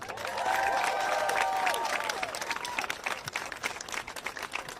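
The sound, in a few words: applause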